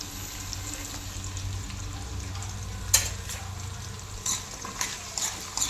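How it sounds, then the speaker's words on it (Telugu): Green chilies and onion fry in oil for Telangana style pappucharu, a soft, steady sizzle punctuated by a few sharp stirring clinks. "ఇవంతా వేసుకొని మంచిగా ఈ ఆయిల్లో ఫ్రై చేసుకోవాలి."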